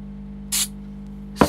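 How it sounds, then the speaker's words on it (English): Two short aerosol spray bursts aimed at close range onto the tip of a colored pencil, a half-second hiss followed by a sharper burst, over a steady low hum. "spray a little bit"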